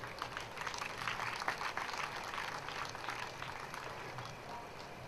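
An audience at a Ram Katha religious discourse claps together, a steady, dense wash of applause that stays fairly even and fades slightly toward the end, heard from a distance with no voice over it.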